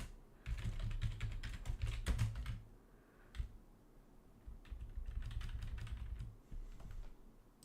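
Close, quiet keyboard typing while an ffuf command is entered, rapid clicking runs broken by short pauses, with no voices.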